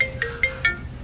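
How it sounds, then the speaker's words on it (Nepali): A mobile phone ringtone plays three short, bright electronic beeps in quick, even succession, close and clear, with no talking. "कसको फोन आयो फेरि?"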